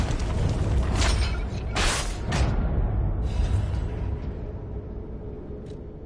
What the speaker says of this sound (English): that explosion is crazy